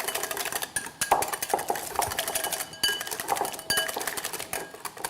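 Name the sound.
whisking a seasoning mixture with a whisk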